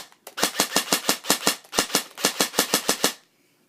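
A custom JG G36 airsoft gun fires a rapid burst on a 7.4 volt battery, roughly twenty sharp, close shots in quick even succession with a brief gap partway through, then stopping abruptly.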